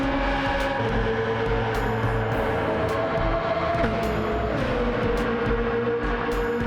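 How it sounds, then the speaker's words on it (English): A BMW P65 engine in an E46 M3 GTR race car screams at high revs through a tunnel in Gran Turismo 7, a loud, steady, sustained howl with shifting pitch and no talking. "That P65 screaming through the tunnel."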